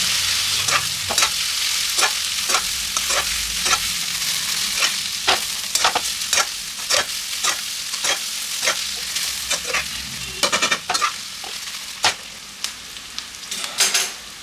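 Vegetables for egg hakka noodles sear in a pan with a continuous sizzle, punctuated by regular sharp scraping strokes of a spatula stirring and tossing them, close and fairly loud, with no one speaking.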